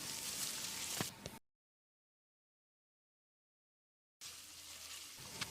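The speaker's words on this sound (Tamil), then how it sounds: "வெங்காயம் கண்ணாடி பதத்துக்கு வதங்கட்டும்." Small onions and curry leaves sautéing in a pan for mutton kulambu, a steady faint hiss of frying heard in two stretches with a dead-silent gap between them.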